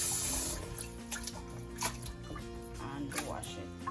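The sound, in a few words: washing sea moss in water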